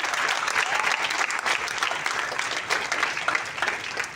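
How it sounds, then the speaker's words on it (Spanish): A church congregation applauds during a sermon, a dense, even patter of many clapping hands sustained throughout at moderate volume. "La aplaudí, para dar gloria a Dios."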